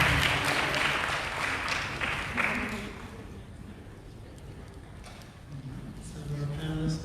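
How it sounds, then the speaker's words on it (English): A forum audience gives a panel a round of applause, loud for the first few seconds before thinning out, after which voices murmur and talk as people gather. "let's give all of them a round of applause"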